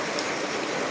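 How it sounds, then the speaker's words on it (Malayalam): Heavy rain comes down in a dense, unbroken hiss, close and loud, with no talking over it. "അയ്യോ ഭയങ്കര മഴയാണ് കേട്ടോ"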